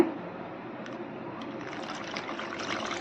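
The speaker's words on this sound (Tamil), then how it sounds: "கால் கப் அளவு நம்ம வந்து பால் சேர்த்துக்கலாம்" Warm milk is poured into curd rice, making a soft liquid trickle that slowly grows fuller and louder over a few seconds, close and without talk.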